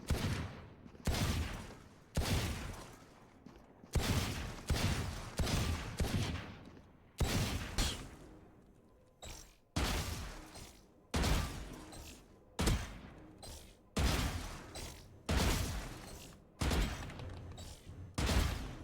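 Gunfire in the Valorant practice range while shooting strafing bots: about a dozen short, loud bursts of shots spaced by brief pauses in a steady rhythm, with no talk.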